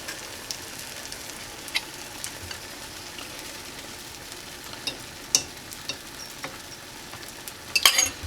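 Three beaten eggs for an omelet sizzle steadily in a hot pan, with a soft continuous fry and a few brief scraping taps near the end; no voices.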